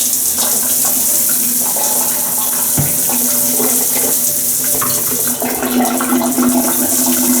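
Water running from a leaky hotel shower, a loud steady rushing spray with a constant hum underneath and a few faint clicks and knocks, heard close with no talking.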